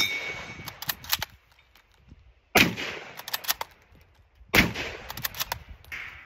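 Two sharp, loud rifle shots from an Eddystone P14 rifle chambered in .303, fired outdoors several seconds apart, each with a metallic ring and a fading echo, and no talk.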